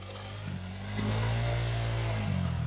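A motorbike engine revs hard and holds a steady throttle while being pushed through mud on a rough track, a continuous close, loud drone rising around the middle and staying strong to the end.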